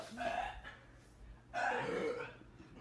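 Someone lets out two throaty burps up close, the second longer and louder, with a quiet pause between them.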